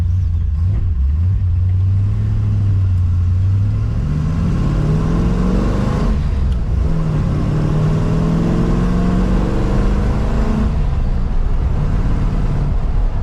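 An Aston Martin DBS V8 on the road, its engine rumbling loud and close from inside the cabin, with the pitch rising and falling through gear changes under steady road noise.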